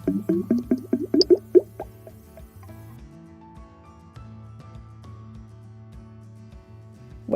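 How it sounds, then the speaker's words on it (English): Gas bubbling through water into a collecting gas jar: a quick run of gurgling, dripping plops at the start that thins out into a few scattered drips over a low steady hum. "Whatever gas produced is bubbled through water and collected in a gas jar."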